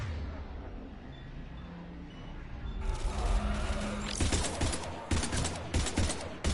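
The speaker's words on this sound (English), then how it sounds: "Taking heavy fire." Heavy gunfire erupts in the video game Mass Effect Legendary Edition. Low, muffled rumbling builds into dense bursts of rapid shots that grow louder and sharper toward the end.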